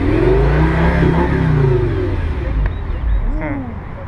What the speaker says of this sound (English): That's a GTR, isn't it? Is that an old GTR? Hey, rev it! Rev it up!